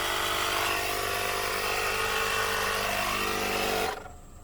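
A BEAUTYBABY 4-in-1 car vacuum and tire inflator pumps air into a car tire, a loud, steady motorized buzz running for about four seconds before it abruptly cuts off.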